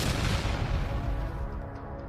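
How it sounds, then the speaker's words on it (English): A Russian BM-21 Grad rocket launcher blows up after an FPV drone strike, a loud, close, sustained blast rumble with dense low roar that slowly fades over two seconds, no voices. "A massive explosion followed, sending debris and flames shooting high into the air."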